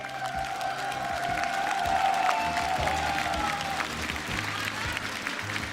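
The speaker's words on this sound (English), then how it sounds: "Vitality are still clapping you" A crowd claps and cheers at an esports venue after a Rainbow Six Siege world championship final, with the team also applauding; steady applause continues throughout under a faint tonal hum.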